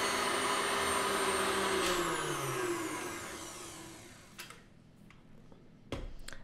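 An electric mixer whips cream for a banana pudding topping, a loud steady whirring drone that winds down and stops partway through, followed by a few light clicks and knocks.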